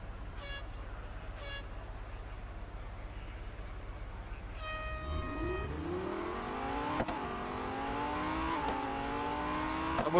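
A Lamborghini Huracan STO in a Real Racing 3 drag race: countdown beeps sound, then the engine's rising, loud revving climbs through several quick gear changes under a steady drone.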